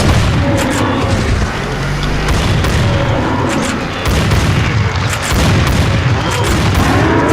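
Gunfire in the hunting video game Cabela's Dangerous Hunts 2011: loud, continuous booming shots and rapid volleys fill the scene, thick and close, with no pause in the barrage.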